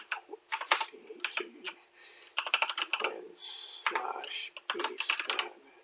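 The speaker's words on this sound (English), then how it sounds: "I'm going to type /data" Typing on a computer keyboard, heard as close, crisp clusters of keystrokes in several quick bursts with short pauses, including one longer held press.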